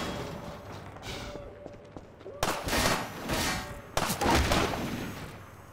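Sniper rifle shots in Half-Life 2, with two loud sharp cracks about a second and a half apart, each trailing into echoing noise, heard after a quieter stretch with faint clanks.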